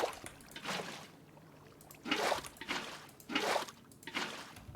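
Blocky game water flows into a garden fountain in Minecraft, heard as soft trickling splashes that come in several separate bursts at an even pace, quiet and close with no talking.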